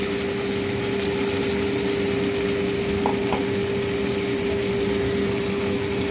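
A steady loud sizzle from water poured into hot fried spice masala in a pan, a continuous hissing roar with a faint tonal hum underneath, no voices.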